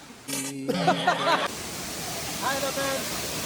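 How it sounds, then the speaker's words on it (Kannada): Kannegundi Falls near Bhatkal, heard from the top of the falls as a constant broad rushing roar, with people talking and laughing briefly over it. "ಇಲ್ಲಿ ನೋಡಿ ಫ್ರೆಂಡ್ಸ್, ಆ ಫಾಲ್ಸ್ ಟಾಪ್ ಇದು."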